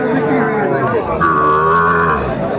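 Cattle, young bulls and heifer calves, at the Aftabganj livestock market, with one loud nearby moo rising over a mooing herd and faint crowd murmur.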